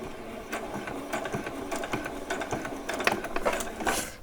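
A sewing machine back stitches denim for doll-sized jeans: close, busy mechanical whirring broken into short, rapid stitching bursts that stop and restart, with no talking.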